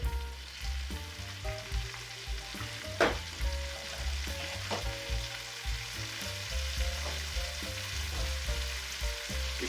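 Several handfuls of spinach cooking down in a hot pan, a soft continuous sizzle and crackle up close, with a few brief scrapes and taps of a utensil.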